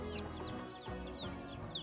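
Free-range village hens, eating wheat, cluck softly and steadily at a distance, with short chirpy calls scattered over a continuous low background murmur.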